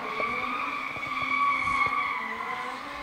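A drift car at Baypark Stadium during a D1NZ Pro-Sport qualifying run slides through a turn with two wheels in the dirt, tyres hissing and engine droning steadily at a distance before it gets back on the throttle.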